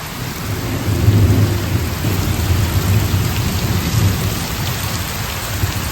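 Heavy night rain pours steadily and close by, with low rolling thunder rumbling underneath throughout; no voices.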